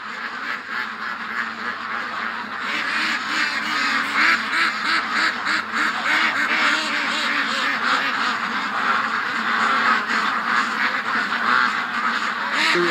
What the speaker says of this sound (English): This is the problem of having ducks in the bush.